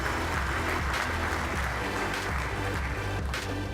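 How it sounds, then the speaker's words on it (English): An audience at a blockchain summit insurance panel applauds steadily, a dense continuous wash of clapping filling the hall without a break. "warm applause for him, please."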